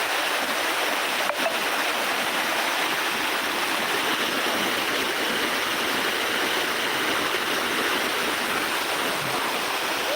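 Natural flow of the Kushasthali river: a steady, dense rush of water that stays even and continuous throughout, close and fairly loud, with no voices.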